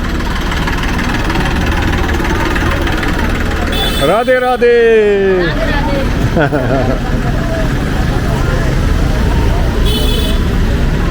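A truck carrying pilgrims rolls along a street in India, its engine rumbling close by amid traffic and horn toots, while a person speaks nearby and a short shouted call cuts through.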